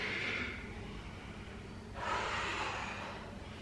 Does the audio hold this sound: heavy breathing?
yes